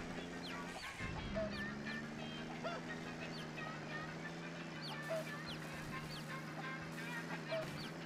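Chicken in a Nintendo Labo vehicle video game, repeated short clucks and squawks scattered over a steady humming engine drone, moderately faint.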